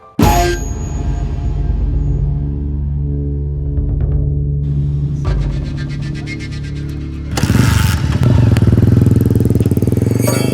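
A motorcycle engine runs steadily and fairly loud throughout, with a low idling rumble and a sharper revving surge near the end, while people talk nearby.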